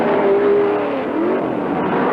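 A Ford GT40 and a Porsche 908 race down the Mulsanne straight at Le Mans in 1969, engines roaring loud and steady at high speed, one pitch sliding slightly as the cars run close together.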